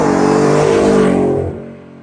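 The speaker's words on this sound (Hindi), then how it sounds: "मैसिव ट्रक फ्लाई बाय जो आप आइडेंटिफाई कर सकते हो, दिस इज द V8" Supercharged V8 of a 2023 Ford F-150 Raptor R roaring past in a fly-by, a loud, deep, rumbling exhaust that swells and then fades quickly as the truck moves away.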